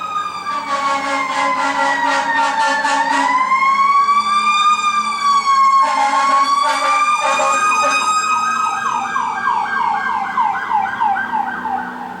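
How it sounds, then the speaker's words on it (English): A loud emergency siren wails up and down continuously, with harsh horn-like blasts breaking in twice, close by and alone. "that is the second loudest siren I have heard all day"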